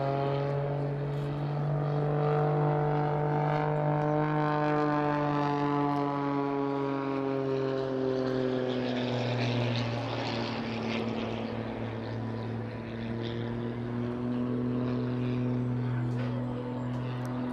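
Pitts S-2S aerobatic biplane with a 300-horsepower, 8.5-litre engine flying a display, its propeller drone shifting pitch steadily as the aircraft manoeuvres, heard at a distance and sustained throughout.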